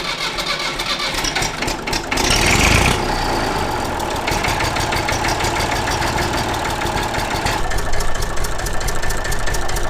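A Massey Ferguson 35X tractor diesel engine runs steadily close by with a rough, knocking idle and a brief louder surge early on, continuing without pause, as each injector pipe is cracked off in turn.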